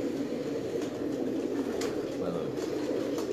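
The 2009 Sialkot champion pigeon coos in a steady low throaty purr, close and continuous, while someone speaks softly in the background.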